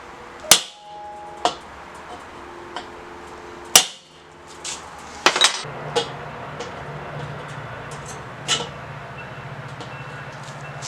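A makeshift punch is struck to tap a mark while a Weber kettle grill rotisserie is being fitted, giving about six sharp, separate metallic hits spaced a second or more apart, with a low hum underneath.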